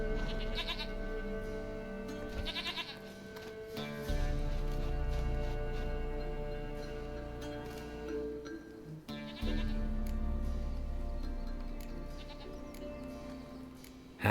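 A goat in The Witcher 3 bleats in long, wavering cries, several drawn-out calls near and clear over a soft game ambience, with no talk.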